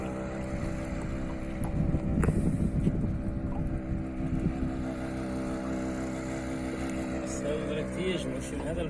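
A fishing boat's outboard motor drones steadily throughout, with wind buffeting the microphone and faint splashing of water.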